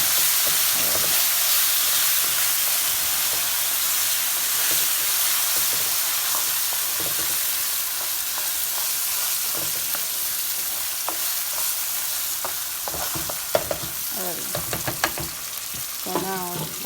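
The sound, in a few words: rice frying in tomato sauce in a pan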